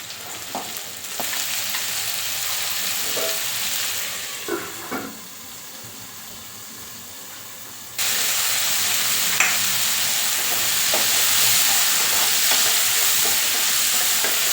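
Spiny gourd (kakoda) sabzi with onion fries in a pan, giving a steady, close sizzle and hiss broken by a few scraping stirs, and the frying grows louder partway through.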